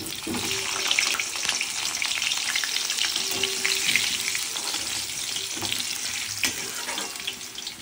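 Potato pieces frying in a pan of oil, a continuous close crackling sizzle with occasional stirring knocks, no voices.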